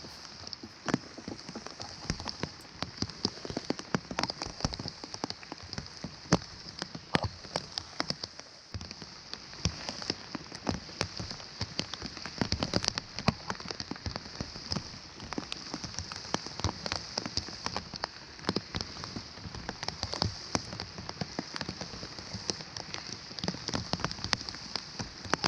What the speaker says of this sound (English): Even though the rain's really coming down again